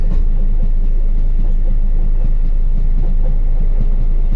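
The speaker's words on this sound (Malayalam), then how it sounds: "നിലമ്പൂർ ഷൊർണൂർ പാസഞ്ചറിനെ ഹോൾ ചെയ്യുന്ന കൃഷ്ണരാജപുരം WAG9" Loud, steady rumble and clatter of a WAG9 electric locomotive hauling the Nilambur–Shoranur passenger train, heard close with constant low roar and faint rhythmic wheel clicks, no talk.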